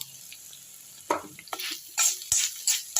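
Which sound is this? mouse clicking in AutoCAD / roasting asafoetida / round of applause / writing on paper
roasting asafoetida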